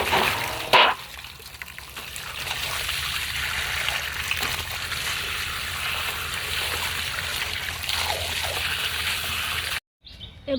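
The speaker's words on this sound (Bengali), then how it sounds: "এবার মাছগুলো পরিষ্কার করে ধুয়ে নিচ্ছি।" Cleaned rohu fish are washed by hand in water, with continuous splashing and trickling close by and a few sharper sloshes, ending in a brief silence.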